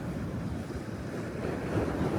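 Incoming high-tide ocean water washes back into rocky tide pools with big green anemones, a steady broadband wash of surf and wind noise that fills the whole stretch without a break.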